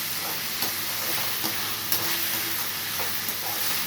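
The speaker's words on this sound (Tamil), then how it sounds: "நல்லா சுருளை கிண்டி நல்லா வேக வைக்கணும்" Tomatoes stir and fry in a pan while cooking mushroom fry, a steady loud sizzle with soft scraping stirs and small spatula taps throughout, with no voices.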